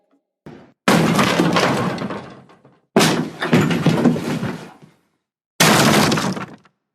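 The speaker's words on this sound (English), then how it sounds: "breaking down the doors so he can get to us" Three heavy crashing bursts, each a loud splintering impact trailing off, separated by silence, like a door being smashed in.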